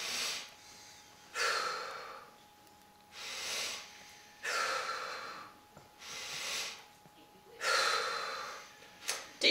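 Slow, deep breaths during a Reiki and detox breathing exercise, six long airy inhales and exhales in an even rhythm, close and fairly soft, with no talk.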